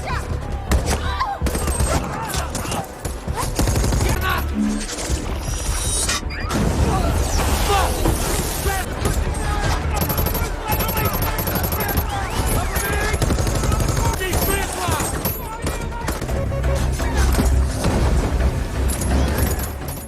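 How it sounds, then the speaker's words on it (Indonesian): Gunfire from a film battle scene where pro-Russian rebels ambush locals and marines, dense rapid automatic bursts and crashes continuing throughout, loud, with a voice talking over the action. "pemberontak pro-Rusia menyergap penduduk setempat dan marinir yang menyebabkan baku tembak"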